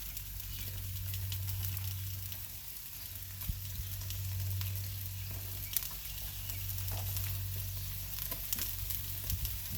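Onion frying on a 22-inch Blackstone griddle gives a faint, continuous sizzle with occasional small pops and crackles over a low, steady hum.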